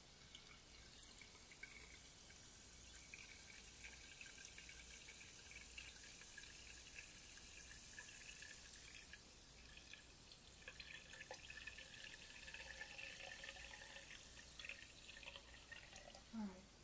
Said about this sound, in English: let's pour some of our seltzer water into our mason jar.